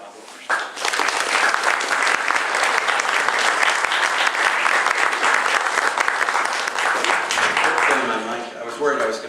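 An audience gives sustained, dense applause for an arriving lecturer, steady and full for about eight seconds before tapering off, with a few voices heard as it fades.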